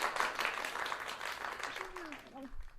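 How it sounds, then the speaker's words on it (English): An audience at a teen improv showcase in Phoenix claps after a scene, a short, moderately loud burst of applause with a few whoops and voices mixed in, thinning out toward the end. "get a round of applause"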